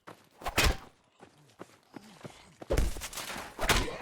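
Several sharp, heavy gunshots in Fallout 4 burst out in quick clusters, separated by quieter thumps and faint movement noises, with a loud burst of fire near the end.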